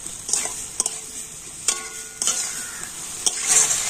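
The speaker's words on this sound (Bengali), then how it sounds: "আর এবারে আলুর সাথে মশলাগুলো খুব ভালো করে কষে নিচ্ছি।" Boiled potatoes stirred and fried with spices in a pan for a vegetarian potato curry, a steady sizzle with repeated scraping strokes of a spatula, close and fairly loud, no talking.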